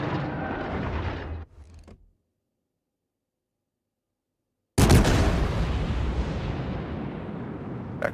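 The warship Zao fires naval gun salvos at a target in a video game. Loud booming blasts with long rumbling tails are cut by a few seconds of dead silence, then a massive new boom starts a rolling roar.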